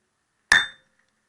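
A single sharp metallic strike as a hammer drives a chisel through a Bowden throttle cable, a loud close ringing clink that decays quickly into silence.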